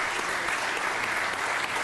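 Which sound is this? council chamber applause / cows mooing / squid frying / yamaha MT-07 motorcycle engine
council chamber applause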